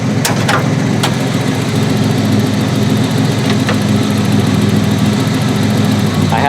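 A scrapyard-rescued Ford Ranger truck's engine idles steadily with a continuous low rumble and a few faint clicks on top, close and with no talking.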